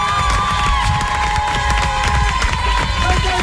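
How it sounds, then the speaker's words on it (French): A studio audience during a French radio show claps and cheers in a loud continuous burst, with a sustained tone running underneath the crowd noise. "Allez, vous allez applaudir"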